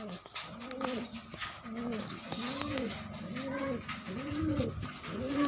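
Pigeons coo nearby in a rhythmic series of soft, rounded, throaty calls that repeat several times in quick succession.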